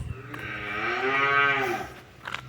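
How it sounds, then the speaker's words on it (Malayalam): A cow moos loudly and close by, one long drawn-out low call that swells and fades over about two seconds, with no talking. "അതിൻ്റെ ഉള്ളിൽ വേറൊരു പശുവുണ്ട്, അതാണ് ഈ കരയുന്നത്"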